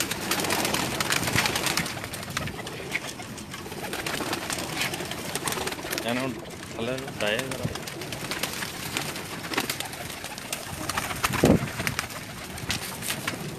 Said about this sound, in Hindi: जी दोस्तों कैसे लगे आपको हमारे कबूतर?